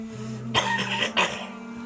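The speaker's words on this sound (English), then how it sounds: "Same as that cough." Two short, sharp coughs in quick succession over a steady low hum.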